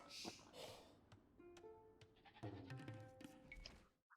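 Sheep in a strategy video game bleat in a few short, quiet calls, overlapping soft game effects and faint clicks.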